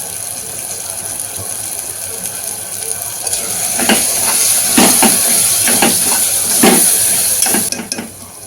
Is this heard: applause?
no